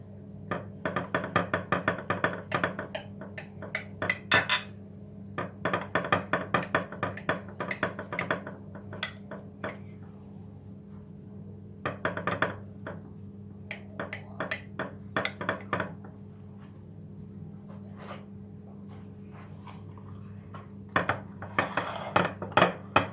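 A knife cuts through freshly baked brownie cake in bursts of clinking and knocking against the pan or plate, with quiet pauses between the slices.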